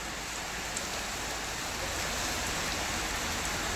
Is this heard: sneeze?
no